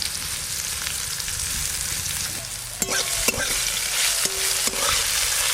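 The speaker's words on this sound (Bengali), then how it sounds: "গোটা জিরে ফোড়নে দেব, শুকনো লঙ্কা, তেজপাতা।" Whole cumin, dried chilli and bay leaf sizzle in hot oil in a pan. The frying hiss is loud and constant, broken by a few sharp utensil clinks as the spices are stirred, and no voice is heard.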